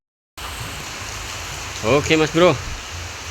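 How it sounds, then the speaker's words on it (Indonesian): Rain falls steadily outdoors at an eel fishing spot, a constant close hiss of drops that continues while someone speaks briefly over it. "Hujan pun turun mas bro."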